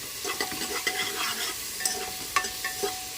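Onions, green chillies and turmeric stirred in a pan: a soft frying sizzle under several light scraping strokes of a spoon, close and fairly quiet.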